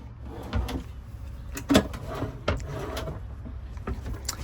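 A drawer slides and bumps inside a custom Class B Noovo Lite camper van, a few soft knocks and rolling scrapes over a steady low hum, close by and fairly quiet.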